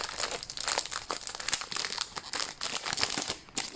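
Close, steady crinkling and rustling of plastic wrapping as a boxed diamond painting kit is unwrapped, with sharp crackles scattered throughout and no talking.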